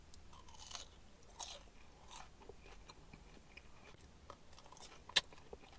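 Potato chips made fresh at a food truck are chewed up close, giving soft, irregular crunches with a sharp snap near the end and no talking.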